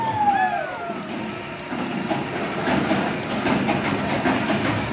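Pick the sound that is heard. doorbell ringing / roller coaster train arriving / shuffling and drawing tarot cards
roller coaster train arriving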